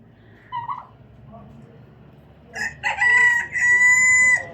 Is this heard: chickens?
yes